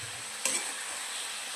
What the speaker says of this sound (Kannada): ಇದು ಮಿಕ್ಸ್ ಮಾಡ್ಕೊಳ್ಬೇಕು.